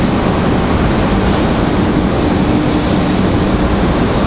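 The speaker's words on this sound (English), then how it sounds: "I hear our A220 on the move" An Airbus A220 airliner on the move at Raleigh-Durham airport produces a loud, continuous engine roar with broad hiss, steady and unbroken for the whole stretch.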